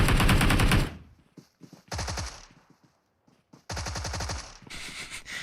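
Rapid automatic gunfire in the PUBG Mobile battle royale game comes in three loud sustained bursts separated by brief gaps with scattered single shots.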